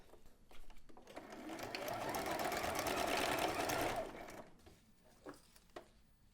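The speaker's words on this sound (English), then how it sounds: "you're going to stitch with a 1/4 inch seam allowance here." A sewing machine runs a steady whirring stitch for about three seconds while sewing a ribbon strap, starting and stopping with light clicks, close and fairly quiet, with faint handling noise around it.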